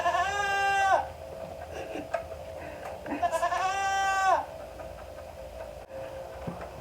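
Boer goats on a farm bleat loudly and nearby, two long wavering calls separated by a pause with quieter background noise between.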